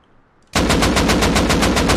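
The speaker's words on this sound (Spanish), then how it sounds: "¿No será ese tú, el que estoy disparando?" Loud, rapid automatic gunfire in the survival game Rust bursts in suddenly after a quiet moment, a steady rattle of closely spaced shots running on without pause.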